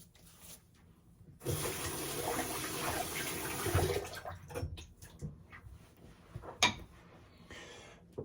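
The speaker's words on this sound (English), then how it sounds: "I'm going to add a little bit more water so I can get lathered up for the second pass." Water runs from a tap onto a shaving brush for a few seconds, close by, followed by scattered drips, splashes and small handling noises in a quiet room.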